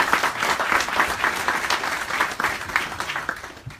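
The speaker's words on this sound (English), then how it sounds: "Give yourselves a round of applause." Audience applause at the opening presentation of a charity hackathon in Des Moines, a brisk, even burst of many hands clapping at close range, steady throughout without talk over it.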